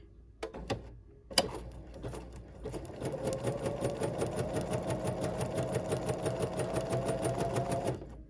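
A Bernina sewing machine fitted with a clear embroidery foot stitches a small zigzag, a fast, even mechanical chatter that starts after a few clicks and runs steadily to the end.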